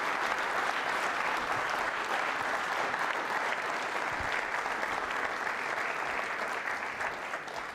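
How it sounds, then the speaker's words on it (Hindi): A university quiz show audience applauds faculty members with sustained, dense clapping that holds at an even loudness for several seconds before easing slightly at the close. "फैकल्टी मेंबर साहब के तालियां बजा लीजिए जोरदार तरीके से"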